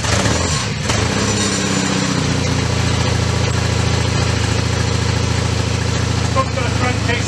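A freshly rebuilt engine runs steadily in a workshop, loud and close with a constant low throbbing drone after it settles, fitted with big silencers; voices talk over it.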